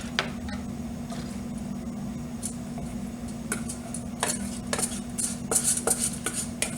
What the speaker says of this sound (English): I take my ingredients from my small bowl and I add it into my large bowl